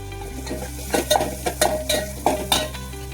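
A utensil stirs chopped tomatoes in a frying pan, with a steady low sizzle underneath and a series of sharp scraping clinks against the metal, about eight strokes in uneven rhythm, close and clear, no talking.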